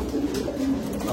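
A brief, soft coo from pigeons in a loft, heard close by in a short burst.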